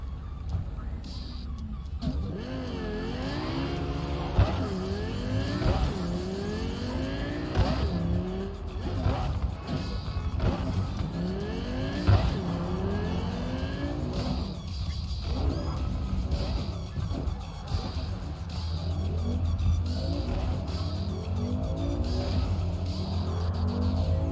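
Car driving in Cyberpunk 2077 on a main road, engine droning steadily with rising and falling revs, tire squeals and skids, and a side-on collision, loud and continuous throughout.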